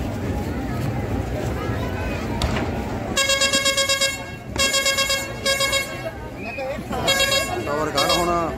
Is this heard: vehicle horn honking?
yes